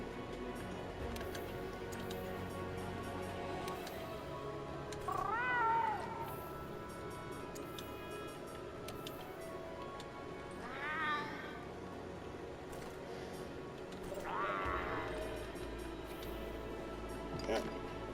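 A cat meows three separate times in Monster Hunter World, each call clear over a steady game music and ambience bed with light ticking.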